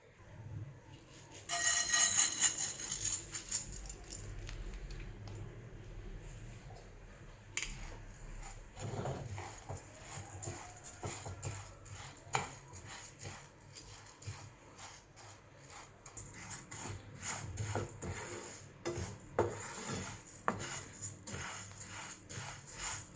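Uncooked rice dry-roasting in a pan over a medium flame for rice laddu, stirred steadily, giving a continuous soft scraping and gritty rattle with scattered clicks, fairly close and with no voices.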